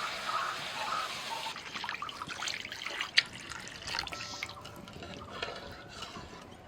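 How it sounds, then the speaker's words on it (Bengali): Water is poured into a pan of frying raw hilsa fish in light oil, producing a soft, steady sizzling hiss with faint drips and bubbling and a single sharp clink partway through. "দু মিনিট পরে আমি এবার জল দিয়ে দিচ্ছি"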